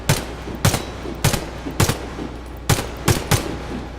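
Automatic weapon gunfire in the Warface shooter game: sharp, loud shots fired in short bursts of one or two rounds, about eight reports spread over the span with brief pauses between, and no talk.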